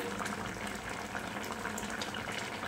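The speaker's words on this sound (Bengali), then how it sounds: "শুক্তোটা ফুটছে" A pot of shukto, a Bengali mixed vegetable curry with fish, bubbles and gurgles steadily as it boils after water is added, a continuous close watery rush without voices.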